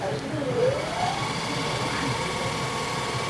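An electric bicycle motor whirs steadily under throttle, a close, even mechanical hum holding at a constant level throughout, with no talk over it.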